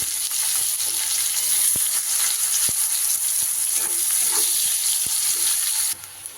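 Steady, loud sizzling of onions frying in hot oil, with a few sharp clicks of stirring; the sizzle drops abruptly near the end.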